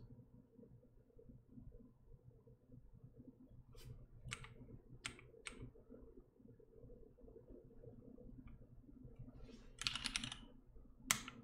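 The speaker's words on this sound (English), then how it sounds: "Okay, so now to test the board. Typing test." Typing test on a custom LZ CLSm mechanical keyboard fitted with lubed vintage black 63.5g switches, giving soft, muted keystrokes in an irregular run with a few sharper clacks and a brief quick burst near the end.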